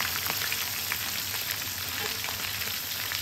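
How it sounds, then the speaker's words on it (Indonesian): Whole fermented fish (pekasam) frying in hot oil, a steady, close crackling sizzle with scattered pops and no voices. "Sambil goreng, sambil timbah ikan tu, badan ikan tu dengan minyak panas."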